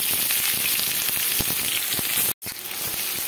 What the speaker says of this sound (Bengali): এবারে তেল আর ঘিয়ের মধ্যে পেঁয়াজগুলো দিয়ে দিচ্ছি আমি